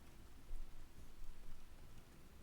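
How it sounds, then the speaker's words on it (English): Steady rain with splashes in modded Skyrim, a dense, even hiss of falling drops that swells slightly midway and runs without pause or talk. "Oh, I gotta turn off these rain splashes."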